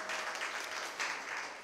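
Brief applause from an audience at a Tamil pattimandram debate, even, distant-sounding clapping from a large crowd for under two seconds.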